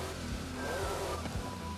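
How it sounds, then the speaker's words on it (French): Modified exhaust on an MG XPower SV-R in Forza Horizon 5: a low engine burble and rumble idles and revs gently. Moderately loud and steady over a short stretch, with no voices. "Il n'y a que le son de l'échappement qui a changé."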